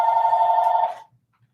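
A phone rings once during a livestream, a single short electronic tone of about one second, clear and fairly close, then stops.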